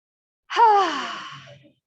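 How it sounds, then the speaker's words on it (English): A single exaggerated breathing exhale, a long breathy sigh that starts abruptly and fades out over about a second, heard close and alone during a guided breathing exercise. "let's exaggerate the exhale"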